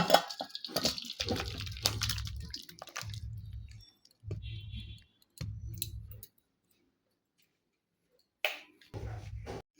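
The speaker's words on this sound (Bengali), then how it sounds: "এবার আমি তরকারিটা নামিয়ে নেবো তরকারিটা আমি ঢেলে দিচ্ছি" Cooked taro curry is poured out of a pan in a home kitchen: wet squishy plops and scraping clicks come in short bursts separated by pauses, close and fairly quiet.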